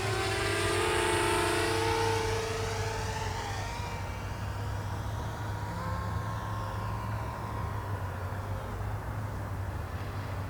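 A DJI Mavic Mini drone, reporting insufficient aircraft power, flies a couple of meters off the ground at full forward stick. Its whining rotor tones sweep up and down in pitch over a steady hum, close and fairly loud.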